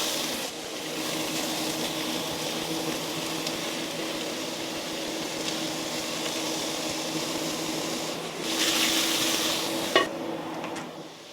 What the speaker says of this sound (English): I'm going to fry the beef without any oil or fat or anything like that